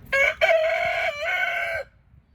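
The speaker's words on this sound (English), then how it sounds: "enough of the chickens and their hoo-ha" A chicken gives one loud, close, drawn-out crowing call that breaks briefly and then carries on for nearly two seconds before it stops, with no voices over it.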